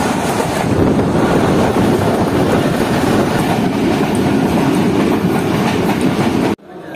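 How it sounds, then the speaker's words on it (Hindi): Pak Business Express passenger train departing Karachi Cantt railway station: a loud, close, continuous rumble with rhythmic wheel clatter and heavy wind buffeting, cutting off abruptly near the end. "तो फिक्स 4 बजे जो है ट्रेन ने अपना फर्स्ट डिपार्टिंग मिसल ले दिया है कराची कैंट रेलवे स्टेशन से निकलने के लिए।"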